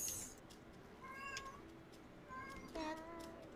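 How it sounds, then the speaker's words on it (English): A cat meows several times, the clear harmonic cries spaced a second or so apart against a rough background murmur, fairly close and moderately loud. "Cat."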